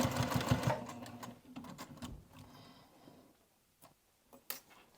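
A home sewing machine runs in a short burst of rapid stitching while sewing off the edge of a Rae dual-zip crossbody bag, then stops; quieter clicks and handling noises follow near and close.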